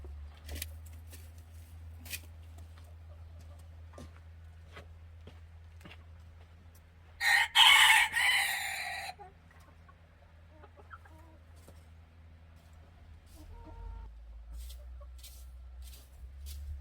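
A farmyard rooster in a country coop lets out a loud, harsh crow-like burst lasting about two seconds midway, with softer scattered clucks and rustles before and after over a low steady background hum.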